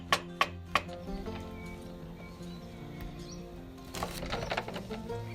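A knife cuts brown mushrooms for a chicken stir fry, starting with three crisp, distinct chops on a board. A quiet lull follows, then a cluster of softer cutting and handling sounds.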